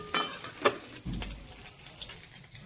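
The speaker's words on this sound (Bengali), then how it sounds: "মোচার বড়াটা ভালো করে ভেজে নিলাম সবগুলো।" Banana flower fritters fry in oil with a faint, soft sizzle, broken by a few light clinks and stirring sounds nearby.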